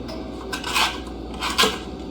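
Smashed Tex Mex potatoes get flipped in a hot pan, two quick metallic scrapes and clinks of a utensil against the pan, close and clear with a low steady background hum.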